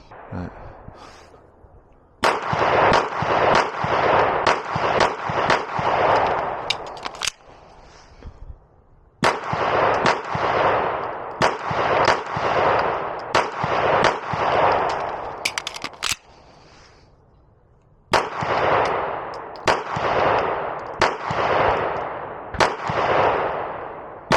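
Rapid strings of sharp pistol shots from a Beretta PX4 Storm G-SD fitted with a VPArmory compensator, fired in quick volleys at a range, each loud crack ringing briefly, with short pauses between groups.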